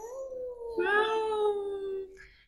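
A voice imitates a cat's meow with a single drawn-out, wavering call of about two seconds, close and on its own.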